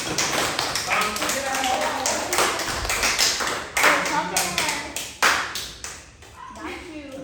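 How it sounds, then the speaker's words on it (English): Audience clapping at a talk on trauma and coping at the King Arts Complex: scattered, fairly close hand claps with distinct taps mixed with voices, uneven in rhythm and fading in bursts. "Clap it up for my assistant, please."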